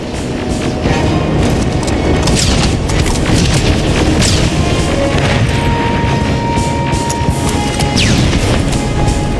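Rocket explosions during an assault in the video game Terminator Resistance, a dense, loud, continuous roar of booms and crashes with bursts layered over one another, no clear speech.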